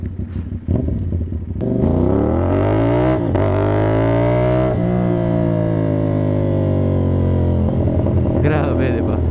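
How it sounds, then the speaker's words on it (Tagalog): CFMOTO 450NK motorcycle with a cat-delete and SC Project exhaust, fine tuned, giving a loud, deep engine note that revs up and falls back in long continuous sweeps close by, with traffic around. "marinig sa vlog kung gaano kaganda yung tunog nito si 450NK"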